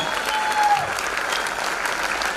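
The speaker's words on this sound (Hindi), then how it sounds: "एक बार जोरदार तालियां उनकी स्टेज पे होना चाहिए, जोरदार तालियां" Audience applause at an achievers recognition event in Indore, steady dense clapping filling the whole moment without speech.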